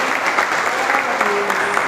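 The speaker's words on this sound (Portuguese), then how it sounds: "Você pode aplaudir a Jesus, aplaude o Senhor, amém." A church congregation applauds together, a loud dense wash of clapping from a packed room with a faint sustained tone underneath.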